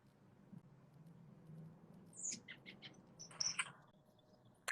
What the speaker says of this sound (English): some house sparrows and starlings in the background